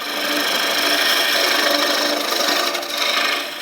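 A woodturning gouge cuts a wooden tenon on a spinning lathe, giving a loud, continuous bright scraping hiss that holds steady for a few seconds before briefly dipping and resuming.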